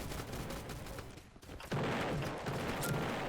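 Bomb blasts in the video game Roblox: a faint, busy stretch of rattling, crackling reports, a brief near-silent dip, then a louder, denser burst of blasts, with no talking.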